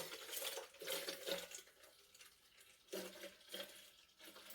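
Milk replacer pours from a container into a calf's nursing bottle with a quiet, uneven splashing trickle that swells and fades in several surges, and no voices are heard.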